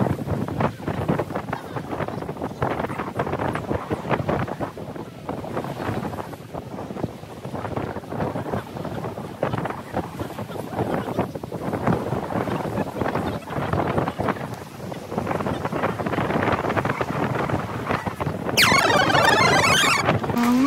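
Strong wind buffets the microphone on a Bulgarian beach, a loud, steady broadband roar running throughout with gusty surges, growing stronger near the end.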